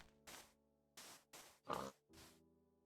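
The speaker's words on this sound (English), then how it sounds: "I hear pigs." Minecraft pigs oinking, five distinct grunting oinks at an uneven pace, faint and isolated against silence.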